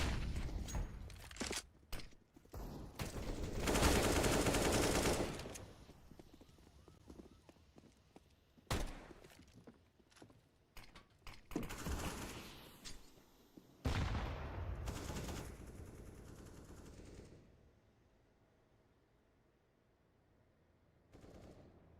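Pistol fire in a Counter-Strike pistol round during an East European online tournament match, with sharp shots, rapid exchanges and clattering bursts, partly under a commentator's talk, fading to quiet near the end.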